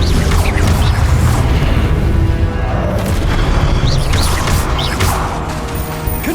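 Confringo fire spells exploding in Hogwarts Legacy, loud booming blasts and crashing impacts in quick succession with whooshing bursts over a heavy low rumble.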